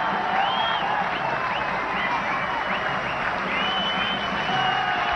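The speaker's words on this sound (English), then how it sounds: "acknowledging the crowd's support and cheer" A cricket crowd applauds steadily in a stadium for Aravinda De Silva's fifty against Pakistan in 1997, a dense continuous clapping wash with a few whistles and cheers rising from it.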